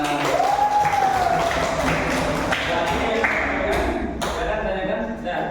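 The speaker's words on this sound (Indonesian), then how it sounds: "tepuk tangan" A group of students in a classroom clap their hands together, a patterned burst of claps with a brief whistle-like tone near the start, fairly close and loud with background voices.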